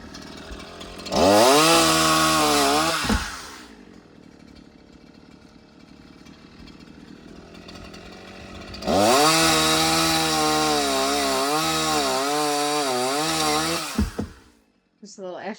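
A chainsaw trims a tree beside a 1770 farmhouse, two long loud bursts of revving engine whine separated by a quieter idling lull, each ending in a sharp drop.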